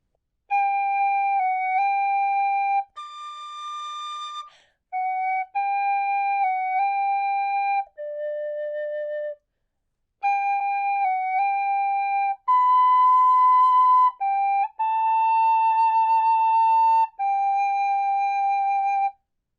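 A tin whistle plays the Braveheart theme melody solo, with clear sustained notes in phrases separated by short pauses, close and alone.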